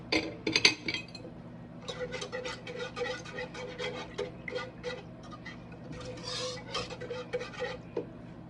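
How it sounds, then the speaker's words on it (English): A whisk clinks and taps steadily against a pan of salmon alfredo sauce, a busy run of light metallic ticks up close under a low kitchen hum, with no talking. "Going to stir that all around. Let me get my whisk out."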